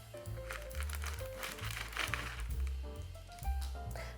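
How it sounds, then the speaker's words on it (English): Knife pushed through a tray of frozen berry flapjack, giving crunchy, crackling bursts and squishing crinkles close by, with a faint low rumble underneath. "I just get my knife, pop it over again, and push the knife right through like that."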